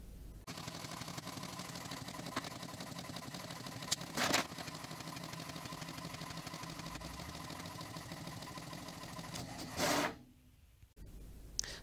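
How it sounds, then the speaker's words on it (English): A home printer runs through PDF pages with a steady mechanical whir and hum. Brief louder clunks of the paper feed break in partway through, and the noise drops off near the end. "So I'm just going to press that print button."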